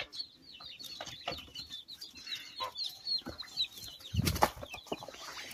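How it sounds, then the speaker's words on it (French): A rooster and hens at a chicken coop where eggs are brooded and hatched, with steady clucking and scattered crowing calls at close to middle distance and a brief louder flurry near the end. "Regardez, ça c'est le coq Chabot."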